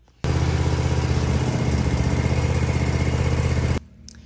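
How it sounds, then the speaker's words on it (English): A Cub Cadet lawn mower engine starts abruptly after a moment of quiet and runs at a loud, steady drone before cutting off sharply near the end. "So we're gonna go ahead and start the engine now."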